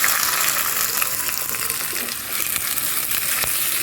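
Chopped onion frying in melted ghee in a pan, a steady close hiss and crackle with no pauses throughout, no voices.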